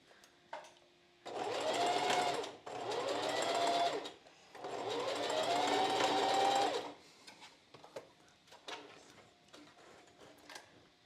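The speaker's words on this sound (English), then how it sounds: "we want to make sure we backstitch at each end" A sewing machine stitches the seams of a strapless bra in three loud, close runs of rapid whirring needle strokes, with short backstitch pauses between them and small handling clicks after.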